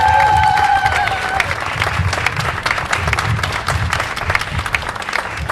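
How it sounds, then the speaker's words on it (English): A crowd at an outdoor Jordanian flag-raising ceremony in Yonkers, New York, breaks into sustained, loud applause that stays dense and even throughout, with a short tone sounding briefly near the start. "Let's give a nice round of applause to Jordanian culture heritage."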